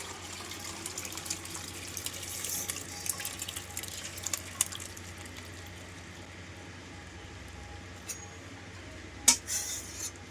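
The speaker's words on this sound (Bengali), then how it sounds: "তো সামান্য জল দিয়ে ছানাগুলোকে ধুয়ে নেব।" Water is poured over fresh homemade chhana cheese curds to rinse them, giving a faint, steady trickle and splash with a few small drips, fairly quiet and with no talking.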